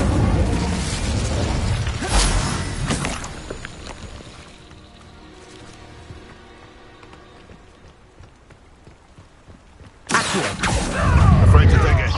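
In a Harry Potter video game, an Incendio fire spell erupts in a loud, roaring burst, fades under ongoing combat noise, then flares up loudly again near the end.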